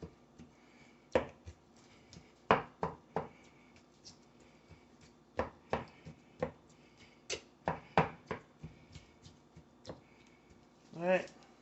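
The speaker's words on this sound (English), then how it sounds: "Put as many holes in this as we can to make it tender, and somewhere for the seasoning to go" Knife repeatedly jabbed into a raw pork shoulder, about a dozen sharp, close thuds in an uneven rhythm, with quiet pauses between bursts and no talk.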